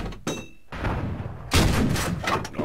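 Tank cannon shots in World of Tanks: a sharp boom early on, then a second, heavier blast with a long rumbling tail, loud and close.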